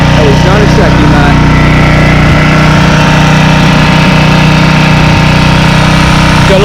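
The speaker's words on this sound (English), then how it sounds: "Definitely very, very well made engines." A Honda lawnmower engine idles steadily after starting on a single pull, a loud, close, continuous mid-pitched drone with faint background voices.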